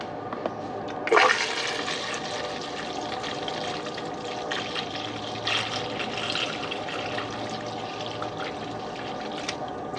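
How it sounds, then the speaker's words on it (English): Coolant pours into the cooling system of a Pontiac Solstice, Saturn Sky or Opel GT, a continuous close liquid gurgle and rush that starts with a brief splash and runs steadily to the end. "you're going to add coolant right back in"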